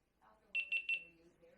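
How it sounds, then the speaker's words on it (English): Three short, high electronic beeps in quick succession from a GoPro action camera starting up, with quiet talking faintly underneath before and after. "Going to hear the beeps."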